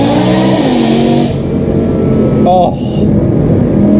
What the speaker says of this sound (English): and that exhaust gives this car such a crazy sound